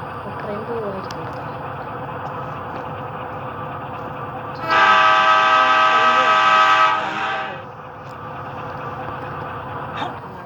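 A train in the video game GTA sounds a long, loud horn blast for about three seconds over steady rumbling, with a voice talking throughout.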